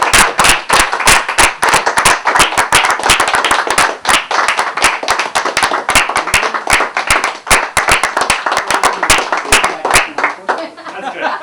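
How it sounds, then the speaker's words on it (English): Audience of founding members at an Operation Democracy event, applauding enthusiastically with dense, loud clapping and scattered sharp claps, continuing for several seconds before thinning out. "So give yourself a round of applause"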